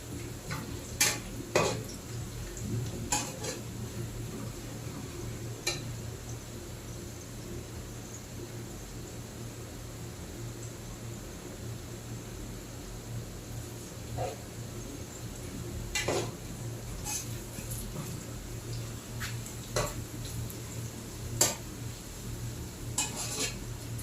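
Onions brown in a pot for layered biryani, with a low, quiet sizzle beneath scattered metallic clinks and scrapes from stirring, with no talking.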